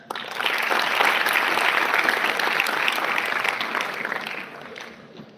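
Steady applause from a school audience at a talk, loud and continuous for several seconds before tapering off at the end.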